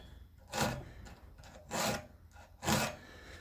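A file rasps across a GTA 26 1/4 picco saw chain in three even, close strokes, each a short gritty scrape with pauses between.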